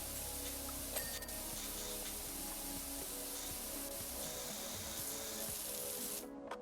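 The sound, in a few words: pressure washer spraying with squelching noise in video game PowerWash Simulator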